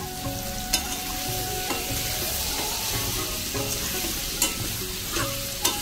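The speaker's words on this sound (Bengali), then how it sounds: "আমার সবজিগুলো কষছে এবং মশলাগুলোও কষছে" Pumpkin and Malabar spinach sauté with spices and hilsa fish head in a hot pan, a loud steady sizzle close by with periodic sharp clanks and scrapes from stirring, no speech.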